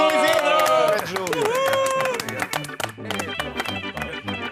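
Studio audience applause for a presenter on a Portuguese TV show: a busy patter of clapping swells in the second half, over tonal music and a voice.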